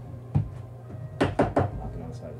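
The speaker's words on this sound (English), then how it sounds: "knock it on the side of the trash can" An oil-painting brush is rapped against the side of a trash can to clean it: one early tap, then three quick sharp knocks in a row, close and dry.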